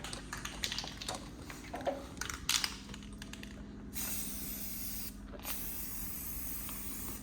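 Aerosol spray paint laid as a second coat in an Mk4 GLI engine bay, several close bursts of hissing spray with short pauses and light clicks between them.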